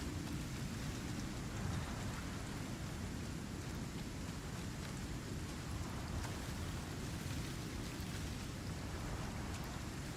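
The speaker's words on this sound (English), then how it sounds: "Can you imagine drumming rain on your helmet all that time?" Steady rain in the survival game Icarus, a dense, even hiss of drops pattering on surfaces with a low rumbling undertone, constant and moderately quiet throughout with no voices.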